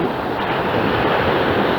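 Sea waves washing onto the seashore on a fine day, a continuous broad roar of surf with wind buffeting the microphone, steady and loud with no voices.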